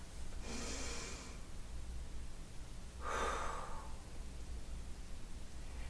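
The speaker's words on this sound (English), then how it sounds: "take in 3 deep breaths" Two slow, deep breaths taken close and quiet, each a soft airy rush lasting about a second, separated by a pause against faint background hiss.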